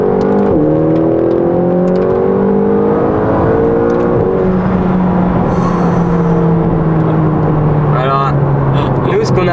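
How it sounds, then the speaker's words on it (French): Heard from inside the cabin, a McLaren GT twin-turbo engine pulls hard under acceleration, its loud rising tone climbing through gear changes. Turbo whoosh and whistle sounds rise above it, and people talk over the engine. "Et là, vous allez entendre le biturbo."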